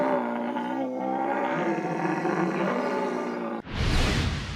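A person imitates a red deer stag's bellow, a deep, powerful, drawn-out roar held for over three seconds, then cut by a burst of loud rough noise.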